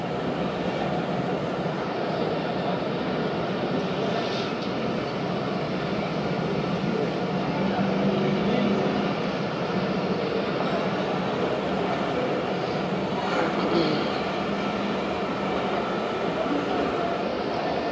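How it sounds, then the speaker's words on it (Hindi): A train departs Pattoki railway station in a steady low rumble of wheels and carriages, continuous and moderately loud throughout, with faint background voices. "पत्तोकी रेलवे स्टेशन से ट्रेन हो रही है रवाना"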